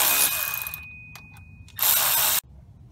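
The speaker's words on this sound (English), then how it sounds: "I'm gonna hit these with the impact cordless till they stop" A cordless impact driver tightens bolts on a 2007 Hummer H3 during a water pump replacement, with two loud close bursts of rapid hammering separated by a brief gap and a few short ratcheting taps.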